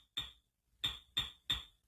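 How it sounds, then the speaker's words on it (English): A door-closing sample, pitched down and shortened for a drum kit, sounds as four short, sharp percussive hits with quick decays: one alone, then three evenly spaced in quick succession. "We're going to pitch it down and shorten it so that it sounds like this."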